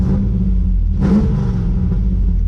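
A 1994 Camaro V8 with a CC503 cam idles around 750 rpm with a deep, lumpy, loping rumble, loud and steady, with a brief rise in revs partway through.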